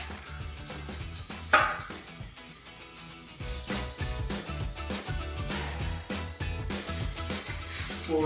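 Quiet, crackling sizzle from a rotisserie chicken being basted with a honey miso glaze, with uneven pops and bursts throughout and no talking.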